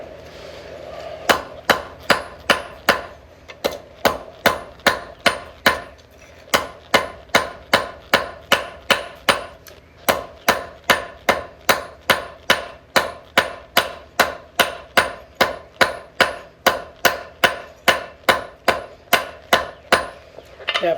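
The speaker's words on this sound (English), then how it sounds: "And just with hammer and anvil, I'm pretty close there." A hammer forges a short square taper on hot steel held in tongs over an anvil, with dozens of sharp, evenly paced ringing blows close by, steady rhythm with brief pauses, no talking.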